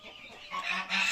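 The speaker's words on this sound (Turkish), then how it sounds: "Bunlar da makineden çıkarttığımız civcivlerimiz." A brief burst of chick and chicken calls, honking, clucking squawks growing louder over about a second, close by.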